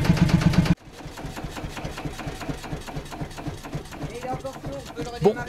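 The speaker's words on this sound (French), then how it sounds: "Voilà le moteur qui cale" A little tourist train's old engine, recovered from a scrapyard, gives a loud burst of running, then cuts out abruptly into a quieter stretch of clatter and faint mechanical noise.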